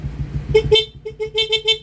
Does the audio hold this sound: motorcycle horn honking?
yes